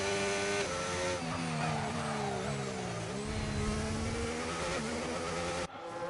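F1 racing cars from a racing video game roar past on the Canada circuit, their high engines whining and shifting pitch continuously, loud and close, with a sudden cut at the very end.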